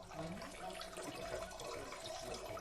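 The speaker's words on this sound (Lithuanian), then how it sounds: "Ruošiu vonę." Water runs steadily into a bath, making a soft, even rushing splash at low level that carries on unbroken throughout.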